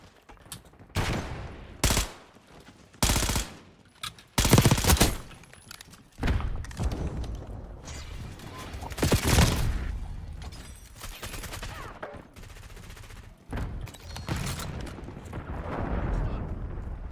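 Sniper rifle fire in Black Ops 6 Zombies on the Nebula map, with loud booming shots at irregular intervals among explosions and rumbling combat noise, close and dominant.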